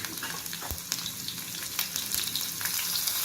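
Green chillies drop into garlic frying in hot oil in a pan for Maharashtrian pithla tadka, a dense, close, continuous sizzle with crackles, spits and small stirring knocks throughout, no talk.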